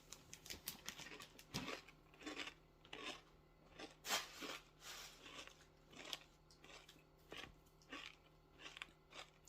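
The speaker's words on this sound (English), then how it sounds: "Sorry, you can hear me crunching." Close, crisp crunching from someone eating a homemade cookie, repeated bites and chews in an irregular rhythm, fairly quiet and with no talk over it.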